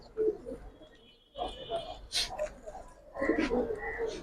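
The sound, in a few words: Giribaz pigeons cooing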